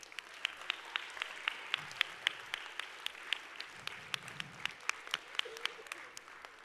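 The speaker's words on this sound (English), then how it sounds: "we ask that you please stand where you are and we'll applaud your efforts" Audience applause at a robotics competition qualifier awards ceremony, a steady patter of many hands clapping throughout, with sharp individual claps standing out over the crowd wash.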